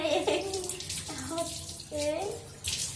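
Running tap water splashes close by while hands are washed with soap, an uneven watery rush with shifting pitch, and a voice talks over it.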